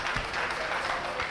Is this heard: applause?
yes